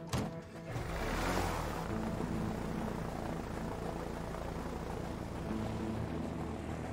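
Engine drone of a plane in the video game A Way Out, a steady loud roar with propeller-like rumble that swells at the start and holds throughout.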